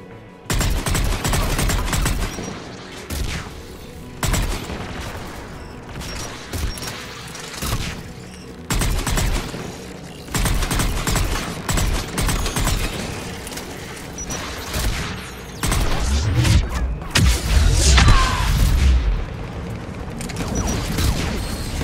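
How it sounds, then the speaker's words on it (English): Anti-aircraft guns firing in the video game Mass Effect 3, a loud, sustained barrage of heavy rapid shots and booming thuds that rolls on without letup, with no talking. "There, the anti-aircraft guns."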